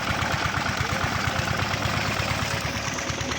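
A generator engine in a Punjabi village runs close by with a loud, steady, rhythmic low thumping idle and no other sounds.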